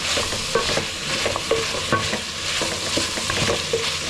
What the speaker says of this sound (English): You cook your meat until you see some golden brown, okay? Just keep stirring to ensure that it doesn't stick to the bottom